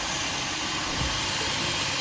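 A rebuilt car engine idles high with a slight miss, giving a dense, steady, close mechanical drone with no talking.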